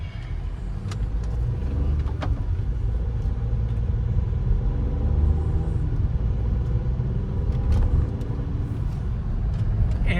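A Skoda Kushaq 1.0 with a torque-converter automatic drives fully loaded with five people aboard. From inside the cabin, a steady low engine drone and road rumble hold for the whole stretch, with no talk.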